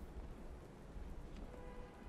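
Steady rain in the Batman: Arkham Knight video game, a dense continuous hiss of falling water with faint low rumbling underneath, evenly loud throughout with no talking.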